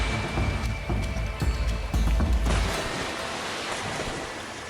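A strong river current surges during a wild zebra herd crossing, a loud churning roar with rumbling low gusts and splashes that eases and thins toward the end.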